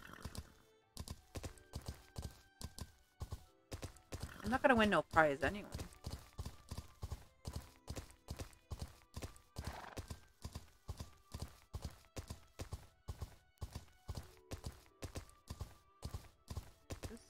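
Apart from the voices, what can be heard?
horse hooves in EverDream Valley video game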